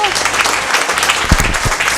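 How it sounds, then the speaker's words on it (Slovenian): Audience at a folk-themed outdoor Sunday gathering clapping briefly, a close, dense burst of applause mixed with people talking. "Dajmo aplavz tudi za njiju."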